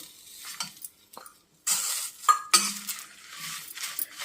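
Garlic and tamarind are stirred in a hot pan, giving scraping, clinking utensil strokes against metal over a soft sizzle, in irregular bursts with short pauses, close and fairly clear with no talking.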